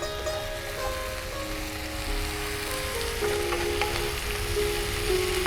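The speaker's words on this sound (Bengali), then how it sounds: "পেঁয়াজটা ভাজা ভাজা হয়ে গেছে" Onions frying in a pan as the base for a Bengali chicken curry, a steady close sizzle with occasional stirring scrapes and no voices.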